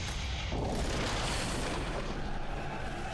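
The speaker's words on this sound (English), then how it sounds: "explosion wasn't even that strong." A video game explosion from TFT (Teamfight Tactics) bursts out as a dense, loud boom with a rumbling, crackling wash that stays steady and sustained for several seconds, with no voices over it.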